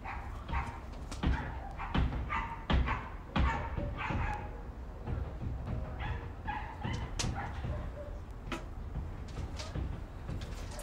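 A dog barks and yips intermittently in the background at a campsite, with sharp repeated bursts scattered through the clip amid some thumps and faint voices.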